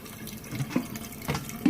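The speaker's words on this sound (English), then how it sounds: "put that underneath there to catch the pasta water here" Pasta water pours from a cooking pot into a container beneath it, a close, continuous splashing and gurgling stream with a few louder sloshes, no talking.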